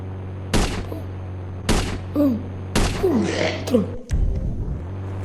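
Sniper rifle shots in the mobile game Indian Bike Driving 3D, three sharp loud reports at roughly one-second intervals over a steady engine-like drone, with game voices and sounds between shots.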